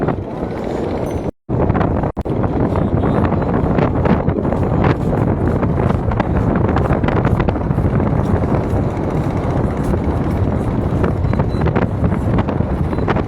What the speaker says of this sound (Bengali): কি পরিমাণ বাতাস যা আপনাদের বলে আমি বোঝাতে পারবো না